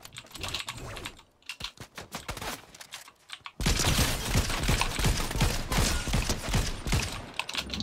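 A computer keyboard clatters with rapid keypresses during a shooter game, soft at first, then dense gunfire bursts from the game surge in over the continuing typing.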